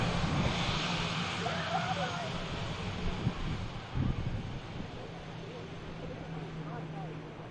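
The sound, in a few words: Air France Embraer airliner engine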